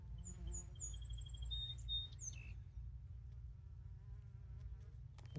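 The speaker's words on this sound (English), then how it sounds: "Oh, hey there, big bumblebee." A big bumblebee buzzes near milkweed outdoors, faint quick passes of buzzing and a few chirpy tones early on over a low rumbling background, then quiet.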